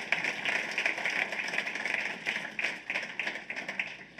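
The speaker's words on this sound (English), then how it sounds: "That's worth clapping for." Audience applause at a Black tech conference in Chicago, steady dense clapping from a crowded room lasting the full few seconds with scattered louder claps.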